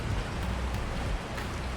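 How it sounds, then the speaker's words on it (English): Heavy rain pours steadily through a forest during a storm, a dense continuous hiss with a low rumble underneath that may be distant thunder; no voices. "Rain hammered the forest in unrelenting waves, turning every surface into a mirror of black water."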